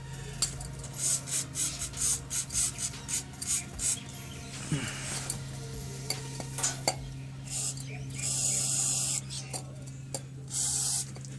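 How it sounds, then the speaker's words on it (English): WD-40 spray lubricant applied to the rubber exhaust hangers of a Honda Prelude during a Skunk2 cat-back exhaust install: short hissing bursts in a rhythmic series, fairly faint, with a steady hum beneath. "take these rubbers, so put a bit of WD-40 on"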